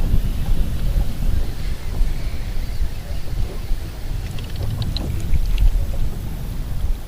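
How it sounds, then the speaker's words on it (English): Wind blowing over a lake while fishing from a boat, a loud, continuous low rumble of gusts buffeting the microphone, with faint splashes and small clicks scattered through. "So the wind's blowing in here."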